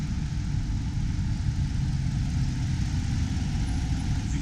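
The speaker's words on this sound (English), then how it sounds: "Powerful engine for a big car." A 5.7-liter Hemi V8 in a 2019 Dodge Durango R/T idles with a steady, low, dense rumble, constant and close, with no voices.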